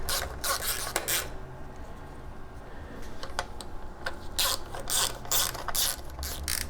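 A hand ratchet clicks in quick bursts while snugging bolts on a Kohler EFI engine, close and fairly loud, pausing briefly between runs of rapid pawl clicks.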